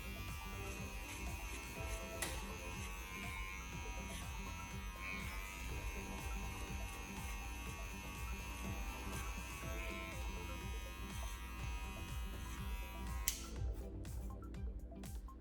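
Electric hair clippers buzz steadily at close range while cutting hair over a comb, a continuous hum with small shifts in pitch and a brief scissor-like snip near the end, and no one speaks.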